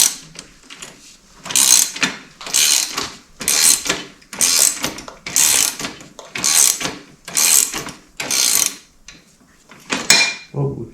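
Handlebar clamp bolts being snugged down on an LTR450 quad fitted with fresh ODI handlebars, a steady run of about nine close, bright ratcheting bursts with short pauses between them and no talking.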